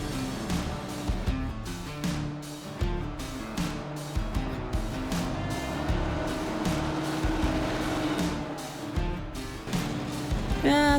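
A 1970s tractor driving along a country road, its engine giving a steady, throbbing drone with rhythmic rattling pulses, moderately loud and close throughout.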